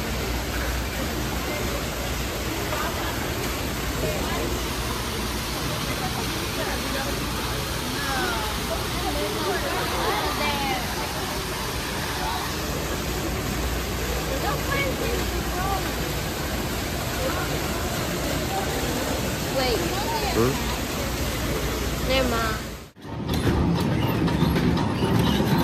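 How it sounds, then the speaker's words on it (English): Continuous roaring rush of a waterfall close by, dense and steady, with voices occasionally audible beneath the noise before a brief cutoff near the end. "Wow, they got a nice waterfall."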